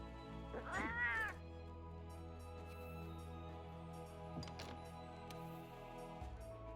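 A cat meows once, loud and wavering, in Monster Hunter World, over a steady low game hum, with fainter chirps and clicks later.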